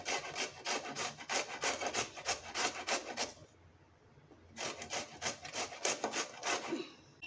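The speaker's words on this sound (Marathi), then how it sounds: "हे बघा, सर्व मी दुधी वरचा किसून घेतलेला आहे." Bottle gourd (dudhi) flesh rubbed against a hand grater in quick rhythmic rasping strokes, a steady run of scrapes, a short pause, then another burst of grating, close and fairly clear with no talking.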